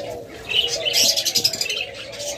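Breeding-pair lovebirds chirp in bright, overlapping bursts, a busy cluster of tweets and calls rising and falling through the whole stretch at moderate distance with no talk.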